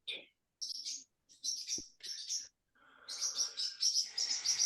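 A virtual pet bird in the Vatom metaverse chirps in several short, bright bursts separated by pauses, then breaks into a longer, steady run of tweeting, clear and close.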